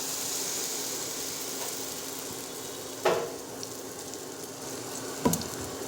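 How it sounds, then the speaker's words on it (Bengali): Besan (gram flour) omelette frying in hot oil in a pan, a steady close sizzle and hiss throughout with two brief clinks or scrapes of a utensil partway through, no voices. "যেমন তেলটা গরম হয়ে গেছে, এবারে এটাতে বেসনের অমলেটটা আমি করে নেব।"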